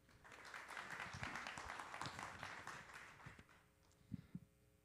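Scattered clapping from an audience at a talk about county and state officials: a dense patter of hand claps through most of the stretch, thinning toward the end, where a few louder isolated claps stand out.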